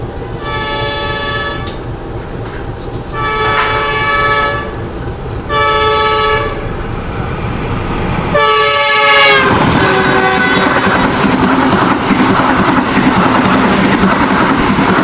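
A CC 201 locomotive's loud horn sounds in several long blasts, then the heavy rumble and clatter of the Sribilah Utama passenger train rushing past close by at Rampah station.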